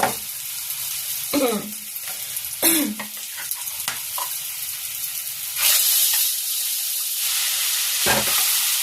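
Meat hits a hot pan of fried garlic and onion for an Assamese pork dish, bursting into loud hissing sizzles with stirring scrapes, then a steady close fry.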